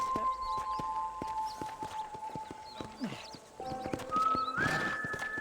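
A horse in Red Dead Redemption trots with repeated hoof clops over a sustained musical tone, then a whinny rises near the end, close and distinct.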